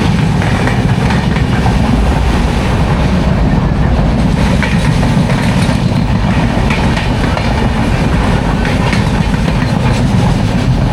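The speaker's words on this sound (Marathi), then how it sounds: "आज आपको दिखा दी है गणपतिपुरे की ट्रेन" A train running near Ganpatipule in Maharashtra, a loud, continuous low rumble with faint rhythmic clacking that holds steady from start to end with no voices.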